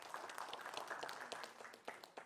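Faint, distant applause from an audience at a regional regent candidates' debate in Karawang, a steady patter of clapping heard alone for a couple of seconds.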